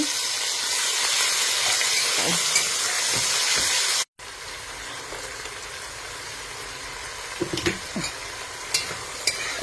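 Chicken pieces sizzle steadily in a hot frying pan, a continuous close hiss with light stirring clicks. The sound cuts out briefly once and resumes, with no voices.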